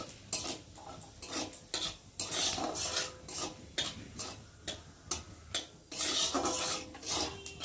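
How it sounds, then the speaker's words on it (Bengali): Whole cumin seeds and dried red chillies frying in hot oil, heard as a steady close sizzle with a run of sharp ticking pops and crackles, interrupted by metallic clinks of a utensil against the pan. "জিরে আর শুকনো লঙ্কাটা একটু ভালো করে ভেজে নেব।"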